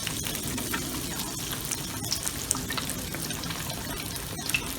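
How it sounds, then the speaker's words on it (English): Dungeness crab cakes deep frying in a pan of hot oil, a steady dense sizzle and bubbling that holds evenly throughout, close and fairly loud with no talking. "they'll deep fry beautifully this way"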